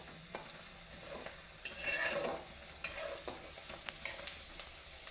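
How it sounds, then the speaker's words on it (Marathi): Onion frying in a pan with salt as it browns, a soft steady sizzle broken by several sharp scrapes and clinks of a spoon stirring against the pan, close and fairly quiet with no talking. "तर इथं आपला कांदा भाजत आहे."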